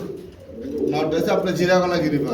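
A pair of Giribaz pigeons coo at close range in a short, throaty burst, with nearby voices talking over them.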